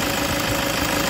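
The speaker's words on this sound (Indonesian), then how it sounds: "Innova Diesel ini menggunakan mesin D4D" The 2.0-litre D4D diesel engine of a 2010 Toyota Innova Type G automatic idles with a continuous, close, clattering knock and a dense, even rumble.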